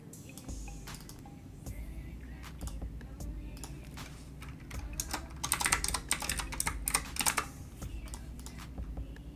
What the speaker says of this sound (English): I'm going to go ahead and type subscribe right here.